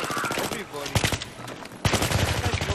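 Gunfire in Battlefield 3 multiplayer: rapid bursts of automatic fire, loud and close, broken by short pauses, with a voice talking between the bursts.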